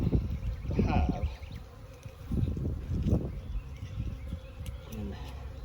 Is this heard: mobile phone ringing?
no